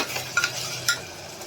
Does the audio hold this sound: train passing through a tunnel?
no